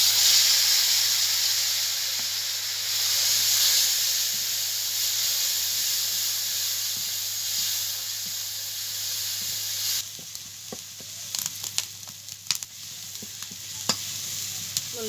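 Spice paste frying in a pan after a little water is added, for a pointed gourd curry: loud, steady hissing steam that gives way to quieter sizzling broken by a few sharp stirring clinks near the end, with no voices.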